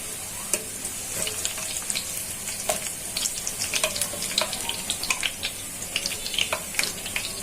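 Ghee goes into a pan of frying onions for khichuri, giving a steady close sizzle dotted with sharp pops and crackles throughout, with no voices.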